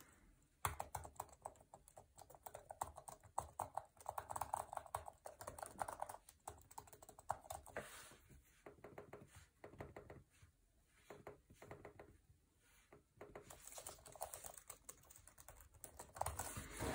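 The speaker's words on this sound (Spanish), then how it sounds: "Vamos con el teclado de Logitech." Quick, steady keystrokes on a Logitech Folio tablet keyboard, close and fairly quiet. The clicks come in dense bursts with short pauses between them, and no voice is heard.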